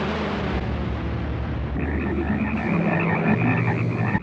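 Frogs croak in a dense, overlapping chorus throughout a 1972 film scene, loud and close, with the rhythm thickening in the second half and no talk.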